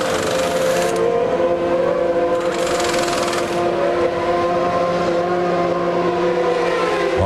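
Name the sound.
Johnny Herbert's Benetton Formula 1 car during 1995 British GP pit stop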